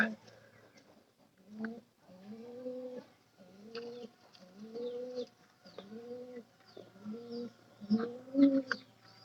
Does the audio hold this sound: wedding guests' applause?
no